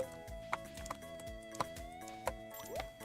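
Horse hooves clip-clop in the video game Stardew Valley, a handful of sharp, evenly spaced clops over soft game music, moderately close and without speech.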